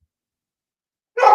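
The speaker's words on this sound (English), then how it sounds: "Oh, we got a doggy." A dog gives a single short bark or yelp right at the end, close and fairly loud after near silence.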